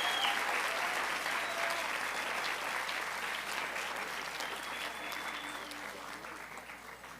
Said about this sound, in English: Let's give them a big round of applause to thank them.